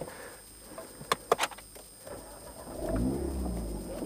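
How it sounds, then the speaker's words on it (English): A few sharp clicks from the starter button, then an Alpine A110 sports car engine cranks and catches, settling into a low rumbling idle nearby. "Let's press start with the starter button."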